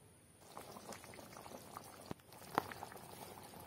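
Water bubbles at a gentle boil in a pot of rupchanda fish curry with chayote squash, a soft, quiet, steady simmer with one sharper pop near the end.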